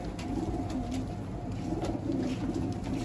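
Racing pigeons settling into a new loft give soft, repeated cooing calls over a steady low background hum, close by and fairly continuous, with no talking.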